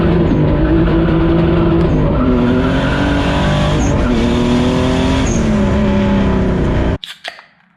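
A turbocharged BMW E36 with an M52 engine is driven hard, giving a loud, close engine roar with repeated rises and falls in pitch across gear changes before cutting off abruptly near the end.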